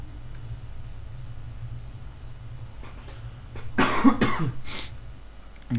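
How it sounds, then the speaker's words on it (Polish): A person coughs in a short, harsh cluster of three or four coughs, close and fairly loud, after a stretch of quiet low background hum. "No przepraszam za ten kaszel, ale coś mnie znowu bierze po raz kolejny."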